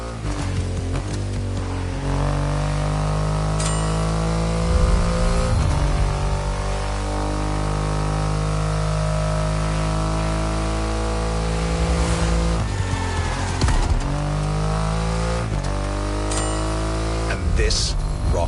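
A Triumph Rocket 3 motorcycle with a 2.5-litre engine in a PS4 video game, its engine droning and revving through rising and falling sweeps, with a voice talking over much of it.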